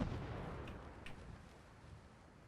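A distant explosion in the Fallout 4 video game, played in survival mode, sounds as a low, booming rumble that is strongest at the start and slowly fades away, with a couple of faint pops.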